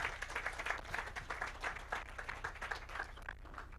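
Applause from a modest audience at a university mentorship programme award ceremony as a runner-up receives her certificate, brisk continuous clapping at moderate volume, steady throughout and slowly thinning toward the end.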